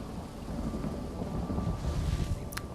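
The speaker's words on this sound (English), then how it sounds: "start with a little bit of lightning, sunder his armor, and maybe turn myself into lightning here" Thunder from a lightning spell in The Elder Scrolls Online, a continuous low rumbling roar with rain-like crackle throughout, ending in a brief sharp high zap near the close.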